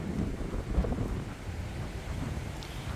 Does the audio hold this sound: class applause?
no